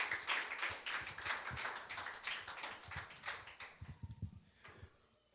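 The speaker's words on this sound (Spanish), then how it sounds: "Démosle fuerte aplauso al Señor" Congregation clapping at the close of an evangelical church service, a dense burst of hand claps that thins and trails off toward the end.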